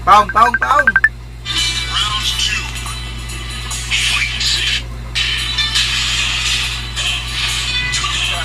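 Telephone call with a short burst of dial tones at the start, followed by a steady electronic hum and intermittent noisy bursts on the line, close and fairly loud.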